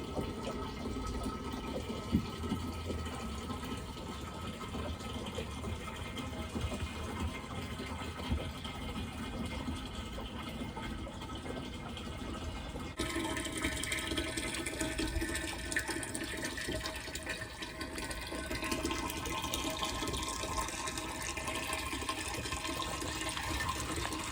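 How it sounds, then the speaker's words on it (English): Water poured from bags into a boat's tank, a continuous gushing, gurgling flow heard up close that shifts to a slightly brighter, fuller pour partway through, with no voices. "So I filled up a couple of these water bags, and I'm gonna dump them into my tank"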